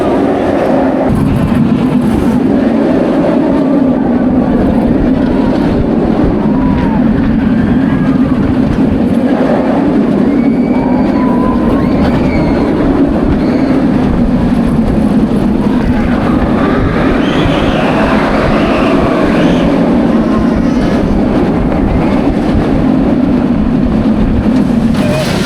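Kumba, a steel roller coaster at Busch Gardens Tampa, runs at night with a steady rumbling roar of the train on its track, loud and continuous, with people's voices mixed in around it.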